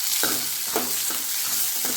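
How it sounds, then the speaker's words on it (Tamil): Ingredients frying until browned for a country chicken curry, a constant close sizzle with a few rhythmic stirring scrapes roughly every half second. "நல்லா வதங்கிட்டேன். இது ப்ரௌன் கலரில் வறுத்தேன்."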